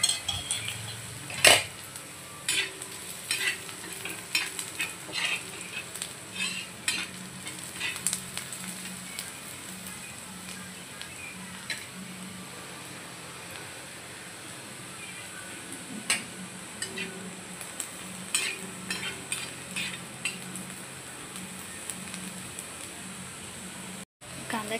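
Onion fries in a pan for a fish curry made with katla fish, a soft, steady sizzle beneath frequent clinks and scrapes of a utensil against the pan, with occasional voices.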